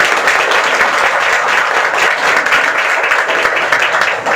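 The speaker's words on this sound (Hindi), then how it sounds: "एक बार इनके लिए भी ताली बजा दो जरा।" An audience in a network marketing training session breaks into sustained applause, a dense loud wash of many hands clapping for the whole stretch.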